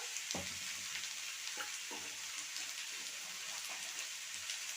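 Mixed vegetables with salt and turmeric stir-frying in a pan, a steady close sizzle with a few soft scraping stirs and no talking.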